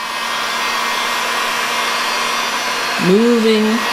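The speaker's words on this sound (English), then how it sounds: "Just got the heat gun, and I'm moving" A heat gun blows steadily over an epoxy countertop being given a faux marble finish, a constant broadband airflow hiss that continues throughout, with a brief tonal squeak or whine near the end.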